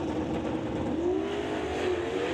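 Small-tire Outlaw 275 drag racing cars launch on a hot, tricky track, a steady loud engine roar rising in pitch as they pull away, heard from a distance with no talk over it.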